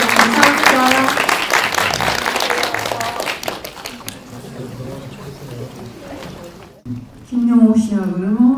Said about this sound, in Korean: 귀한 걸음 해주신 나태주 씨님께 다시 한번 박수 부탁드리면서 마치도록 하겠습니다.